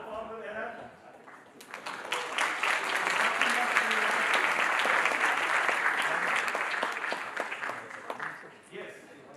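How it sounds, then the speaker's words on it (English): A crowd applauds at a FuckUp Nights 2023 event, clapping swelling quickly into a dense, sustained ovation that carries on for several seconds before tapering off, with a voice speaking briefly before and after. "a big applause to co-founder Eren."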